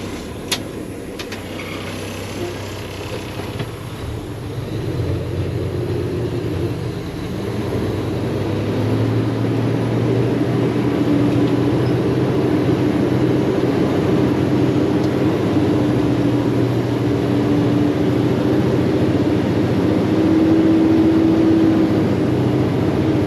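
A truck hauling a load of beans on the drive home drones with a steady low engine rumble and road noise, rising slightly in pitch and loudness partway through as it picks up speed.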